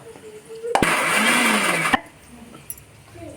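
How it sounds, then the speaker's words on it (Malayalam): A mixer grinder whirs loudly for about a second grinding ginger, garlic, green chili and fennel seeds, starting and stopping abruptly amid quiet room sound. "ഇതിലേക്ക് കുറച്ച് പെരിഞ്ജീരകം ഇട്ടിട്ട് ഒന്ന് അരച്ചെടുക്കുക"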